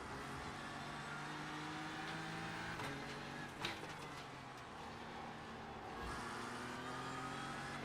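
McLaren GT3 race car engine in an iRacing or Le Mans Ultimate GT3 race, a steady loud drone with shifting tones and a brief spike mid-way, no talk.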